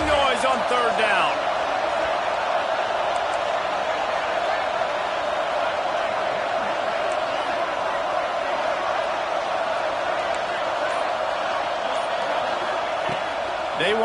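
A stadium crowd in an American football video game roars loudly and continuously for a third-down play, with excited whoops and a commentator talking over the din.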